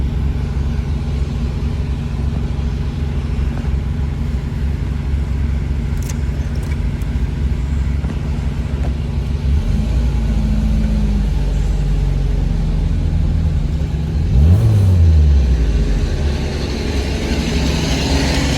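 A Doğan SLX car engine rumbles steadily nearby, then revs up in a rising and falling sweep, loud and without talk.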